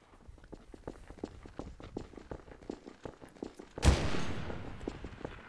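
Gunfire in Garry's Mod DarkRP: a run of sharp, rapid clicks and shots, then one loud blast with a long decaying roar near the end.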